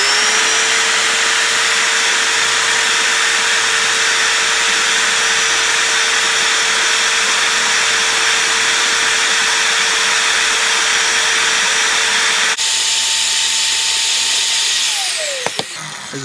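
A power tool pad scrubs rust off an LS crankshaft with a loud, steady high-pitched whir. Near the end its tone shifts, then it winds down and stops. No one speaks.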